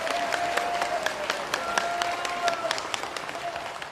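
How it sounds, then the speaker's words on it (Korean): A crowd at a Vietnam War veterans' rally claps continuously, with sharp individual claps standing out through a steady wash of applause and a faint tone sounding in the background. "다시 한번 뜨거운 박수를 부탁을 드리겠습니다."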